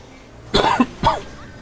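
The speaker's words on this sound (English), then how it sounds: "I do apologize to everybody for the constant coughing today" Two quick, close coughs from one person with a sore throat, the first a rough double burst and the second a shorter single hack, set against a quiet background.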